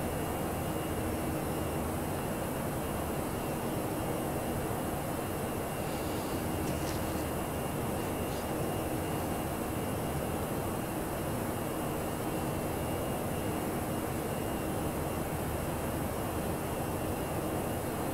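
Airliner engines accelerating in a flight simulator video game make a constant, dense jet roar and hiss that holds steady at moderate loudness for the whole stretch, with no talking.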